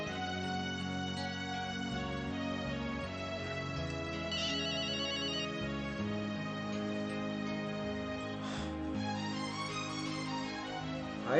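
A telephone ringtone plays steadily and loudly as an outgoing call is placed, a melodic electronic tune with layered tones over a low musical bed, with no talking.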